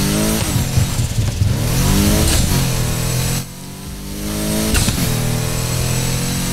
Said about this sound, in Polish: Dźwięk turbo zarypiaste są.